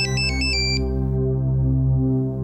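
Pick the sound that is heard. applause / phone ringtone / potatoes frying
phone ringtone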